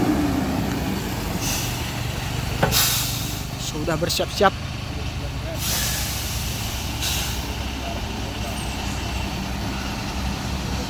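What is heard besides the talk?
crane truck preparing to tow crude palm oil tanker truck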